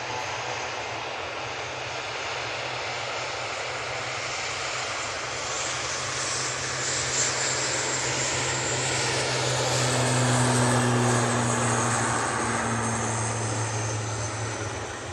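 An Aer Lingus turboprop airliner rolls for takeoff at Manchester Airport, a steady broad engine roar with propeller drone that swells slightly as it accelerates, continuous and fairly distant.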